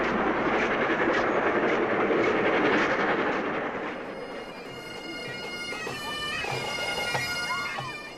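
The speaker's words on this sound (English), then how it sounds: "the nation's favourite steam engine is coming home to the National Railway Museum" The Flying Scotsman steam locomotive rumbles steadily along the rails with a broad roar, followed by metallic squeals and clanks as it slows, heard at a moderate distance.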